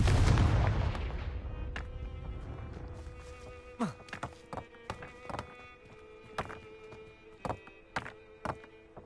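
A fiery blast spell in the video game Hogwarts Legacy bursts with a loud deep boom that rolls off slowly, followed by scattered dull thuds and light taps at an irregular pace.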